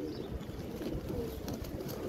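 Military breed pigeons kept for sale, soft continuous low cooing from several birds close by, with faint rustling and a few higher chirps.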